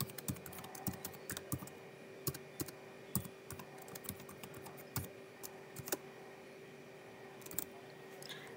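Java code is typed on a computer keyboard in a steady run of soft, close key clicks, with scattered louder taps over a faint background hum. No one speaks.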